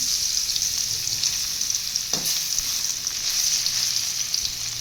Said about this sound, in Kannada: ಎಣ್ಣೆ ಕಾಯ್ದ ನಂತರ ಪನ್ನೀರನ್ನ ಹಾಕ್ಕೊಂಡು ಫ್ರೈ ಮಾಡಿ ಇಟ್ಕೊತಾ ಇದ್ದೀನಿ.